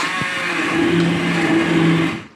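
An immersion blender whirs steadily through tomato pasta sauce in a pot, with a close, continuous motor whine and a slight pitch wobble as it churns, cutting off at the end.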